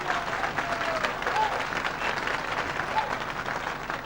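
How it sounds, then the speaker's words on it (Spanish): Warm applause from a studio audience greeting a writer, a steady wash of clapping from a moderate crowd holding evenly throughout, with faint voices underneath. "Un aplauso para ella."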